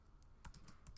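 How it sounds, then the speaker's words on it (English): Keys clacking on a computer keyboard in short uneven bursts, a handful of sharp close taps spread across a brief stretch with a steady low room hum underneath and no talking. "I'm going to type out something like this"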